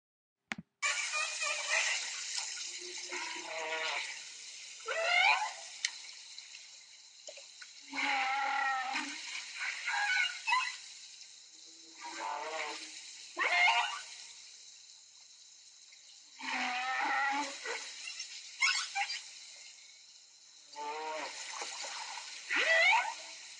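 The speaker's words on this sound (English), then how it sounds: "my favorite ocean sound is probably humpback whale song" Humpback whale song in the ocean: a series of separated moaning and whooping calls with rising and falling tones, repeating every few seconds over a steady high-pitched underwater hiss.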